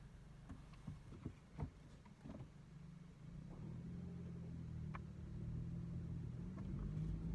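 Manual-transmission car pulling away from a standstill as the clutch is eased out, heard from inside the cabin: a few soft clunks from the footwell, then a low engine rumble that swells steadily as the car begins to move.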